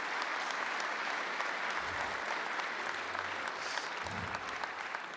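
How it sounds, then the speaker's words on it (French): An audience claps steadily for a speaker at a trading evening event, a dense sustained patter of applause at even loudness throughout, with a few faint low murmurs underneath. "On peut l'applaudir aussi pour son expo."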